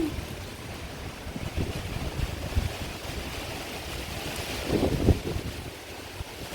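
Strong wind from a storm in the UAE roars and buffets the microphone continuously, with gusty rumbling and surging noise like surf, no voices present.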